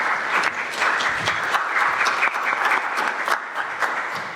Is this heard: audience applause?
yes